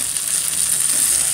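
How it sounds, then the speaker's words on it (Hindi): Vegetables sauté in hot ghee in a pan, giving a steady, close, bright sizzle with a soft stirring texture and no talk. "इसी घी में हम अपनी सब्जियाँ सौते करेंगे"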